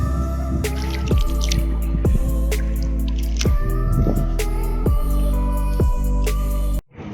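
Hands splashing in icy cold water of the Kunhar River, with repeated close, sharp drips and sloshes in an irregular rhythm over a steady rushing flow, no voices.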